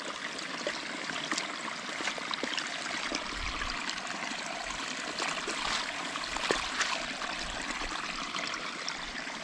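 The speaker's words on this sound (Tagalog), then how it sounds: "Patubigan po natin." Irrigation water runs steadily into a rice paddy being readied for chili planting, a soft continuous trickling and gurgling flow close by, with no talking.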